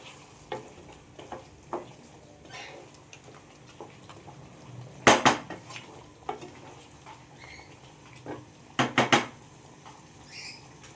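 Mutton masala stirred in a pot gives soft background sizzling, punctuated by sharp metallic clanks and scrapes of a spoon against the pot, some in quick clusters.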